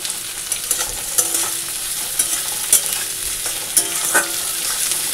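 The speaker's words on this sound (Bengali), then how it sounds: "কালো জিরা ফোড়ন দিয়ে পেঁয়াজ আর কাঁচা লঙ্কা দিয়ে দিয়েছি, পেঁয়াজটা একটু ভেজে" Onion and green chili frying in oil tempered with black cumin, a steady hiss of sizzling with intermittent scraping and stirring knocks of a spatula in the pan, close up and without talk.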